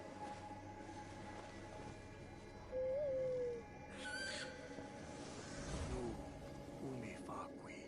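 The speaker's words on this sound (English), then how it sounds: "Yes, we have named our owl Hoot Hoot" Owl hooting in the video game Far Cry Primal, a single clear hoot rising at mid-volume over a steady ambient game soundscape, with brief higher calls following.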